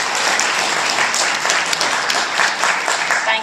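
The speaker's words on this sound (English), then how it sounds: "So y'all please give her a good round of applause." A crowd at an education rally on the Capitol steps bursts into sustained applause, dense clapping heard close and loud without a break.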